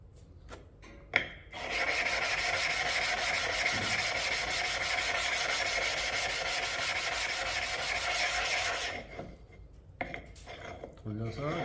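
The back of a western plane blade is rubbed flat on a lapping surface in one sustained, even scraping stroke of about seven seconds, with a few short clicks and rubs before and after it.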